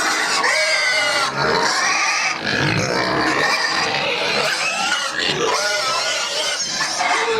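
A crowd of hungry farm pigs squeals and grunts before feeding time, a loud, dense, continuous chorus of high shrieks and oinks close by with hardly a pause.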